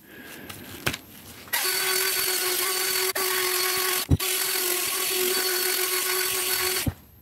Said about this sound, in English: I'm going to change from the foam pad onto a fleece buffer here